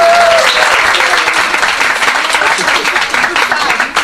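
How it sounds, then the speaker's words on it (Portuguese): Audience applause at the end of a lecture, dense and sustained clapping from a crowd lasting throughout, loud and close, with a brief tonal sound at the start. "Quem gostou pode aplaudir"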